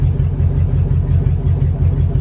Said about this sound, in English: look at that idle drop down to 650